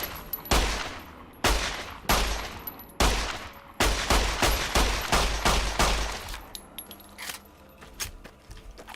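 Mega Pistol gunfire in Fallout: New Vegas, a quick string of loud, sharp shots with irregular spacing, a tight volley in the middle, then tapering into fainter echoing tails near the end.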